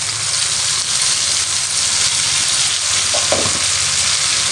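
Tomato, ginger and garlic paste sizzles steadily in a pan for an egg omelette curry, a dense constant frying hiss with a faint clink or scrape near the end.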